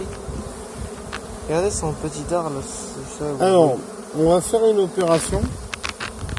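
Dense buzzing of honeybees swarming around a hive frame, loud and close, with someone speaking French over the steady drone.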